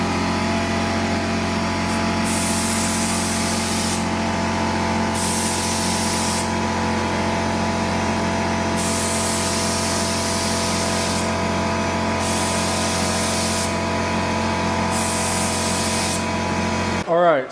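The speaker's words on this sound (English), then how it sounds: "So I'm gonna spray it real quick." Bursts of hissing spray from a paint gun painting parts of a 40-year-old tractor in a garage, several on-and-off passes over a steady mechanical hum, close and loud.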